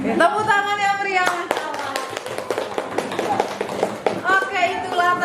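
Brisk hand clapping breaks out in the middle, sharp and close, with a person talking just before and again as the clapping fades.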